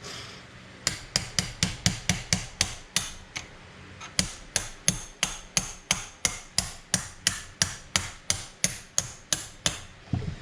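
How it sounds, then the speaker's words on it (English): A hammer repeatedly strikes a Craftsman punch set during Jaguar MKII reassembly, sharp metallic blows in an even rhythm of about two per second, a brief pause near four seconds, close and clear with no talk. "This is what I should have used, my punch set from Craftsman."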